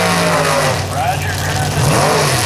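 An AMC Hornet race car at a drag racing event, its engine droning loud and steady with a slight rise in pitch, while an announcer talks over it.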